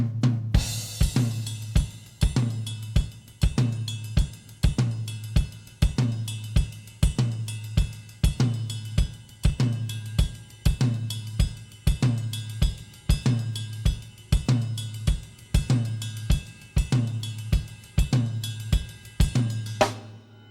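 A drum groove with one hand on the ride cymbal bell, a tom taking the backbeat and the left foot working the hi-hat in eighth notes. It holds a steady, repeating pattern of evenly spaced hits, close and clear, with no talking.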